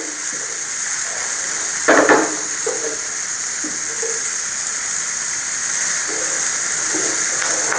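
Chopped onion and green chilli fry for egg bhurji with a continuous bright sizzle. An occasional stirring clatter rises briefly above the even crackle.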